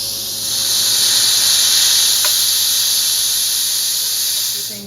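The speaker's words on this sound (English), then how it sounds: "So I come over here and I release this valve." Steady broadband hiss of air rushing from a freeze dryer's pressure release valve as the chamber is vented after drying, loud and continuous for several seconds before tapering off at the end.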